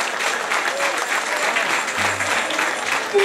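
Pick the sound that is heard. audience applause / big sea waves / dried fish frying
audience applause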